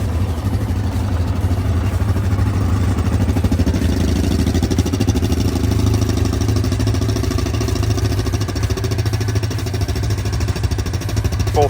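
Two stock Yamaha Grizzly 700 ATVs idling side by side, a loud steady low rumbling thrum with a fast even chugging pulse throughout.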